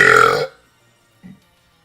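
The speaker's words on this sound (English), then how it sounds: "One last belch for the road." A short, low burp from a streamer comes after the end of a spoken sign-off. It is faint and stands alone in near silence.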